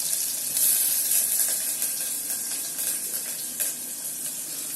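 Chopped onions sizzle steadily in hot oil, a continuous bright hiss with small crackles and pops, close by and without any voices.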